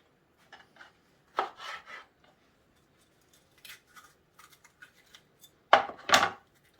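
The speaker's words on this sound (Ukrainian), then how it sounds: "перчик просто дрібню ножем" Knife chopping bell pepper on a board, a handful of scattered soft cuts and sharper chops, quiet and close, with no talk.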